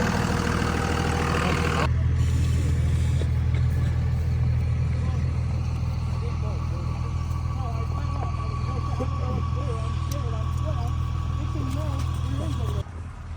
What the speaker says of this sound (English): a four-wheel drive Nissan Titan trying to pull out a Chevrolet, slipped off in the ditch, and now can't get out